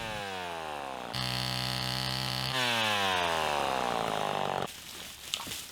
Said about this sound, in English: probably the easiest way to prep your firewood is with a chainsaw.